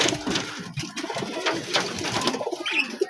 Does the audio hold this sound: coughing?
no